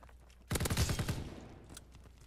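Rapid automatic gunfire in Call of Duty: WW2, likely from a BAR, erupts loud and dense after a quiet lead-in, then trails into scattered echoing shots and game noise.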